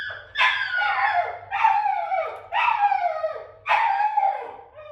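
A puppy in a crate whines and howls in four drawn-out, falling cries, each followed by a short pause, close and fairly loud with no talking.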